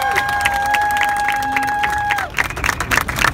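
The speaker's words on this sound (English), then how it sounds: "help me welcome with a round of applause our great council member, Rafael Salamanca." A crowd at a district office grand opening applauds and cheers to welcome a council member, with loud clapping and hubbub under a sustained electronic tone that cuts off partway through.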